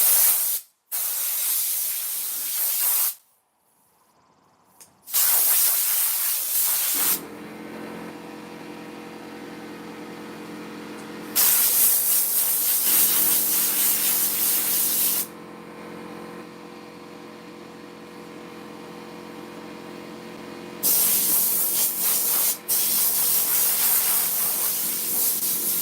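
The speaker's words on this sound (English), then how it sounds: "now I'm going to take my little air compressor" Small air compressor blowing dust off a foam-filled latex mask: loud hissing air blasts come in several long bursts separated by short pauses, while the compressor motor hums steadily underneath once it starts.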